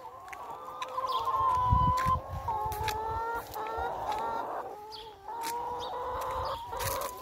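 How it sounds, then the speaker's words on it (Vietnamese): Backyard chickens cluck and croon continuously while being fed, a busy flock of overlapping calls close by at a steady moderate loudness, with no voices over them. "Anna đi học về, Anna cho gà ăn nè"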